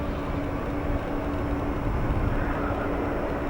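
Boeing 777 jet at Chicago O'Hare airport, a steady distant engine rumble and whine heard continuously at a moderate level, with no voices.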